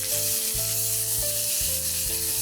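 Shallots sizzle loudly in hot oil that was just used to fry eggs for a Kerala-style egg chilli, a constant close crackle broken by a few scraping stirs.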